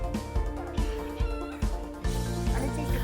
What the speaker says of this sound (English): Chicken everywhere.